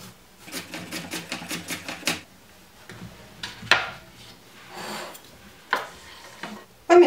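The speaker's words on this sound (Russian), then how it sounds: "Резать я все буду очень тонкой соломкой." Knife slicing cucumber into very thin strips on a board: a rapid run of crisp, close chopping taps for about two seconds, then scattered single cuts and scraping, with no talking.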